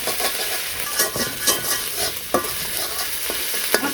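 A ground paste of onion, garlic, ginger and green chili is sautéed in a pan, a continuous loud sizzle broken by repeated spatula scrapes and clacks.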